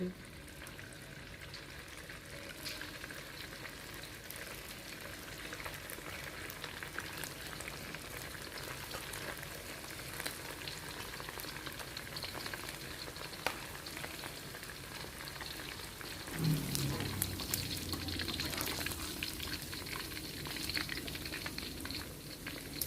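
Sesame-coated pork frying in hot oil, a steady dense sizzle and crackle throughout, with a brief louder bubbling burst near the end; no talking.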